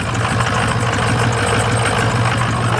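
A Ford 6.0 Powerstroke diesel engine idles steadily after starting, with a loud, close, continuous low rumble and a fast, even mechanical chatter throughout, and no voices.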